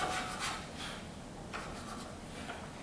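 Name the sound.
sanding a guitar neck dovetail with sandpaper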